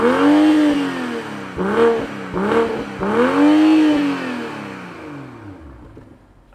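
A 2021 BMW M440i convertible engine fires up and revs in several rising and falling pulls, close and loud, then settles toward a quieter idle before the end.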